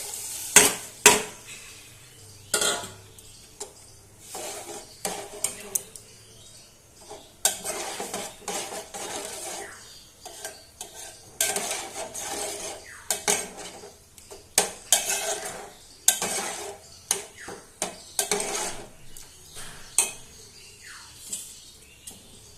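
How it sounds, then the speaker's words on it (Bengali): A spoon mashes cooked moong dal in a metal pot, with repeated scraping and clanking strikes in uneven bursts over a low background sizzle. "বন্ধুরা যে ডালটা হয়ে গেছে চামচের সাহায্যে একটু ম্যাশ করে দিচ্ছি"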